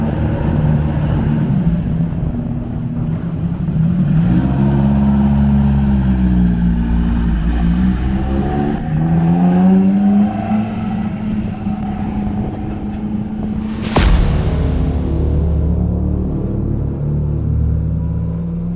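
A Ferrari Dino race car engine drones and shifts pitch as it accelerates and slows on the Snetterton track, with a sharp clunk midway, steady and fairly close throughout.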